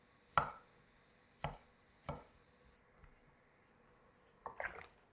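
A knife cuts boiled potatoes and hard-boiled eggs into wedges, with about five quiet, separate thunks against a board spaced a second or so apart, the last a quick double cut, in an otherwise still room.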